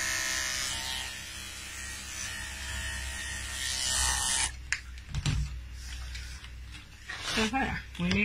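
Electric clippers buzz steadily while shaving a dog's coat during a grooming session, a continuous close hum for the first few seconds, then breaking into shorter bursts as a person talks over it.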